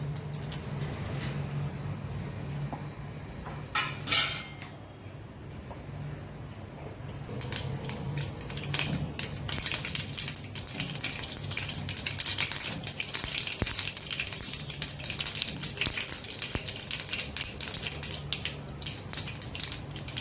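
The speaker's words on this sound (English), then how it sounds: "Let us put mustard seeds, little fenugreek seeds" Mustard and fenugreek seeds land in hot oil and sizzle, a continuous crackling hiss that starts mid-way and builds into steady loud frying with scattered pops, no voices.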